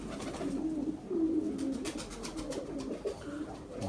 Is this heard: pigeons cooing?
yes